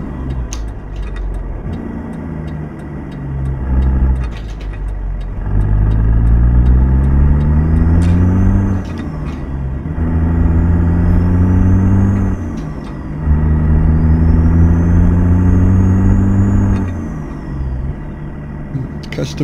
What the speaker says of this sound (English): Custom interior sounds you're listening to is from Z Mods also.